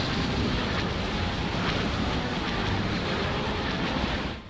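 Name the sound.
TIE Bomber engine noise in the Star Wars game mod TFTC Reimagined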